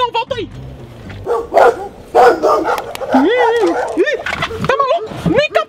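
A big dog barks repeatedly inside a house, deep loud woofs mixed with yips and whimpers, while people talk over it.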